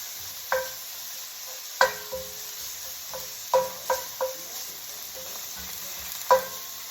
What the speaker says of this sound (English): let's toss the fish